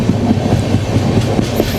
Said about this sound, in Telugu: మన ట్రైన్ కరువు తీసుకుంటుంది